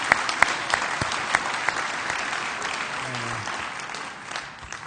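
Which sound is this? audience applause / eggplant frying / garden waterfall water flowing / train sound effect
audience applause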